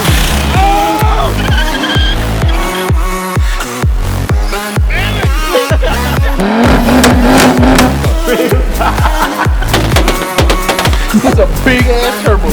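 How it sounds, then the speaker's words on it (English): A 2019 Mercedes C63-S turbo engine accelerates hard and loud, its roar climbing repeatedly through gear changes with tire squeal mixed in. "That's a big ass turbo."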